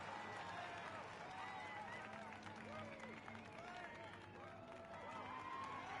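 Crowd applause from the Project Motor Racing video game plays as a steady, fairly quiet wash of clapping with some cheering, alongside faint engine tones.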